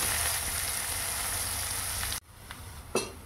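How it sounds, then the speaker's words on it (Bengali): Bitter gourd (karela) frying in a pan makes a dense, even sizzle for about two seconds, then cuts off to quiet with a few faint knocks and rustles. "করলাগুলো ভাজা হোক, ততক্ষণ আমরা অন্য কিছু কাজ সেরে আসি।"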